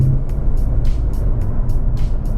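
The 2016 Chevy SS exhaust switched to its quiet neighborhood setting rumbles as a low, muted idle from inside the car, with a soft regular ticking above it.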